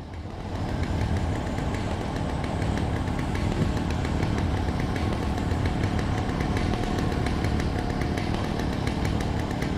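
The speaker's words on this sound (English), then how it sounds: "It's a chainsaw." Chainsaw in the video game Alan Wake (The Signal DLC), a loud continuous engine drone that runs steadily for the whole stretch with no talk over it.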